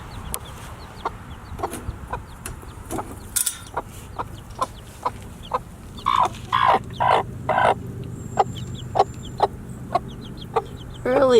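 Backyard chickens, including a hen with chicks, make short clucks and cackles at an irregular pace, along with scattered clicks and mechanical rattles. The sounds are fairly close and grow busier in the second half.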